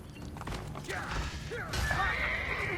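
Horses neigh and whinny in the Assassin's Creed: Brotherhood video game amid a mounted fight, with several rising and falling calls over clattering hooves and combat noise, fairly close and loud.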